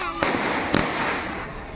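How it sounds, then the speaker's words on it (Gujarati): Two firecrackers burst in quick succession at close range, sharp loud cracks about half a second apart, with people talking around them. "ફટાકડો"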